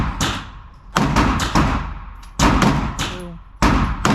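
Close, loud pistol shots from a Glock 43x fired at a target. About five sharp reports come at an uneven pace, each with a short echoing tail.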